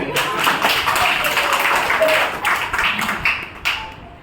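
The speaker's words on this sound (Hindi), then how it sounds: "इसके लिए ताली तो बजाओ।" A group claps together at a Hindi stress-relief mantra session, a loud steady patter of many hands lasting several seconds, with a voice talking over the clapping.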